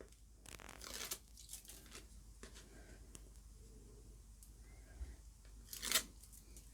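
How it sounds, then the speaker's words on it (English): Backing paper peeled off double-sided tape on a papercraft folder, quiet scattered rips and crinkles at close range with a sharper tearing burst near the end. "And just remove the backing paper."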